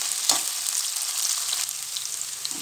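Finely chopped onions sautéing in a pan until brown for dum biryani, giving a steady close sizzle with a couple of brief stirring scrapes and no talk.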